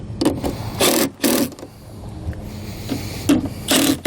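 A ratchet on a 7/16 socket tightens hardware on a MaxxAir roof vent cover atop a 2016 Keystone Cougar XLite camper, giving several short, close, harsh bursts of clicking with brief pauses between them.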